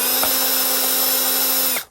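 A Milwaukee power drill drives screws while LED lighting is installed, its steady motor whine running loud and close for nearly two seconds before cutting off abruptly, with no talking.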